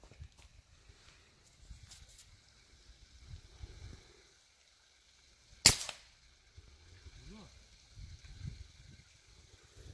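A single sharp crack from a Hatsan Mod 125 Sniper Vortex gas-piston air rifle fired at a target, one brief loud shot amid quiet outdoor rustling and faint handling noise.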